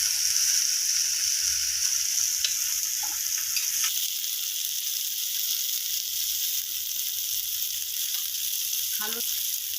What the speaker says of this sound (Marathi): कमी गॅसवर हे मीडियम गॅसवर आपल्याला व्यवस्थित तळून घ्यायचं आहे, कमी तेलामध्ये